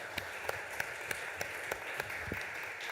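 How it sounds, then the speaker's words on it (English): A summit audience at the 4th New Space Atlantic Summit gives applause, with a broad bed of clapping punctuated by regular, sharper individual claps heard close by, fairly soft overall. "A big applause to Herminia."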